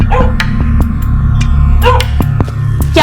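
A dog named Lalu barks a few times over a loud, steady hum and background music, the barks short and sharp.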